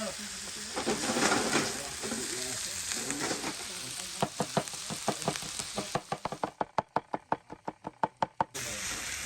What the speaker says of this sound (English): first of all we're frying the chicken thighs